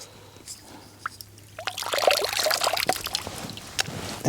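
Clean water is pushed from a syringe through a survival water pre-filter, giving close wet squirting, trickling and dripping that grows busier partway through, with a few small handling clicks.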